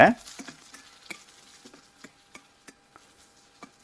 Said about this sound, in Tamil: ஒரு பெரிய வெங்காயம் நறுக்கினது இதோடு சேர்த்துட்டு நல்ல அந்த எண்ணெயில் வதக்கிட்டே வாங்க